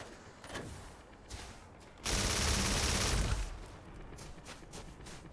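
Gunfire from the companion Adoring Fan in the space game Starfield, scattered shots at first, then a loud, dense burst of sustained fire for about a second before tapering back to sporadic pops.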